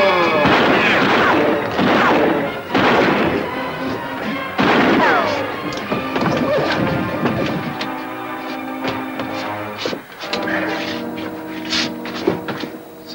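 A western shootout, several loud sharp bangs crashing in quick succession in the first five seconds, followed by quieter clattering, a dramatic music bed and scattered knocks.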